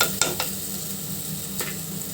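Curry frying and sizzling in a pan as salt goes in, with a few sharp scraping stirs near the start and again toward the end over a steady low hiss.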